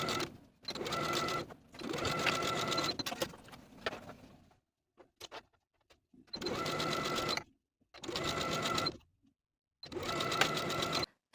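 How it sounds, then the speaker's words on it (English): Sewing machine edge stitching down the folded seam allowances along both side seams of a tank top, running in several steady bursts separated by brief pauses, close and clear with no talking. "we're going to edge stitch along the folded edge of these seam allowances from top to bottom for both side seams"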